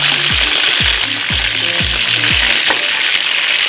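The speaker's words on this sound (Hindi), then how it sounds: "अभी इसको 2 मिनट तकरीबन और फ्राई करेंगे तेल में।" Chicken pieces fry in hot oil with a loud, steady hiss, while a spoon knocks against the pan five times in a quick, regular rhythm. No voices are heard.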